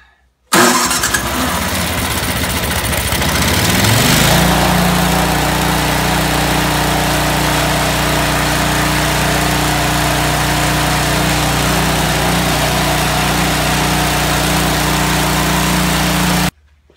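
A Toro snow thrower's small engine catches right away after a pull start. It revs high, then settles into a loud, steady running drone, close by, with no talking.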